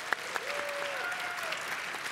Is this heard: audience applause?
yes